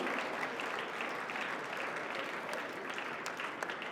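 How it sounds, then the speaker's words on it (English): A big round of applause for an award winner at a North South Foundation finals ceremony, with a crowd clapping continuously and evenly at close range for several seconds without any talking. "A big round of applause for Vayu"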